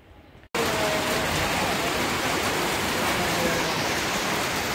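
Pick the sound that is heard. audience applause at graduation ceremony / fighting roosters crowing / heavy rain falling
heavy rain falling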